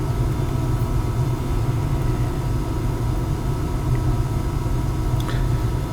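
Hot water pump engine roaring in a steady, loud low-pitched drone with no change in rhythm, running continuously without speech.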